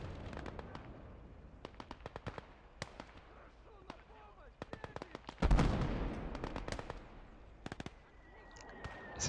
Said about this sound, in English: So hear the mortar go off.